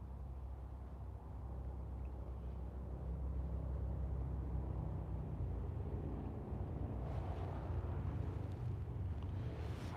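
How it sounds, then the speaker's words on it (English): Distant cars and motorbikes with loud exhausts, heard from about half a mile off the road during a Thanksgiving hunt, make a steady low rumble throughout, swelling slightly toward the end under light wind noise. "cars and bikes with these loud ass exhausts running through here. I'm a half mile off the road and you can still hear them."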